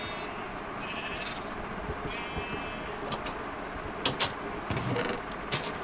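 Sheep bleating in the Minecraft video game on a hardcore sheep farm, several short wavering bleats over a busy background of game noise and clicks, with no talking.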